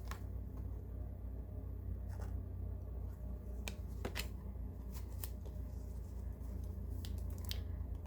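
Fingernails tap on tarot and oracle card decks in soft, close clicks, some single and some in quick little clusters, spaced irregularly over a quiet background hum, with no voice.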